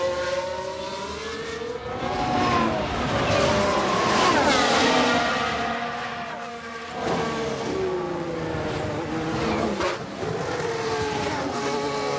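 Tyre lock-up under braking in F1 Manager 2022, race car engines whining and shifting pitch, with a drawn-out tyre squeal as the cars pass.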